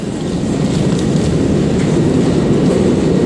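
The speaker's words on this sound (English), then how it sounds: "That train leaving is my train." A train pulls out of a busy station platform with a loud, close, continuous low rumble and faint rhythmic wheel clatter, heard without speech.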